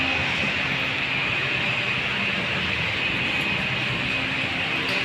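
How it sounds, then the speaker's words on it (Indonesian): Jakarta Kota-bound KRL commuter train rolling through a station platform in Greater Jakarta, a steady, loud, continuous rumble and hiss of wheels and cars passing close by, with no talk over it. "Ini ada kereta Jakarta Kota lewat"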